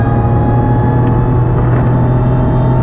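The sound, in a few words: car engine supercharger whine with open element intake filter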